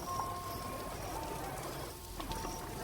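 Stormy rain falls steadily, a continuous soft wash of drops pattering on surfaces at moderate distance, with faint tonal sounds drifting in the background.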